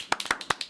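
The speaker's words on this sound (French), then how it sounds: "On applaudit." A few people clap briefly at a French local TV event show, giving about six sharp, close claps in an irregular rhythm, with no talk.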